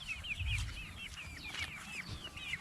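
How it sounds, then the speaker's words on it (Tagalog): Chickens cluck and chirp at a house construction site, with several repeated calls scattered over low background rumble. "Ito yung mga manok ko."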